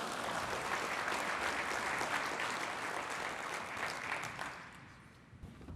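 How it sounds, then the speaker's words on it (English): Audience applause for finalists at the 2022 National Quality Dealer Awards, a steady dense clapping from a large crowd that holds for about four seconds, then thins and fades out. "please join me in applauding them all for their achievements and contributions."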